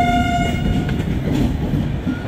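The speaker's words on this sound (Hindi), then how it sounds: "बाकी देखते हैं कोई तो ट्रेन आ रही है।" A train rolls steadily past a station near Agra Cantt, a loud continuous rail rumble with a sustained horn tone sounding over it at the start.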